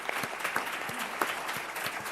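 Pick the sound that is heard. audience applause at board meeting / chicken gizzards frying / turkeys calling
audience applause at board meeting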